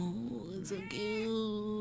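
Small kitten giving a couple of short, high meows in quick succession, close and clear with quiet room tone behind.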